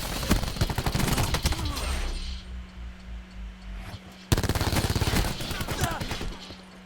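Rapid automatic gunfire rings out in the video game Black Ops 4, with dense bursts of shots, a brief lull, then a sharp crack and another quick volley.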